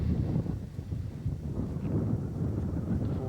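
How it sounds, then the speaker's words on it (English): Steady low wind rumble buffeting outdoors at a fort site, a continuous dull roar with no talking. "It's terribly windy today."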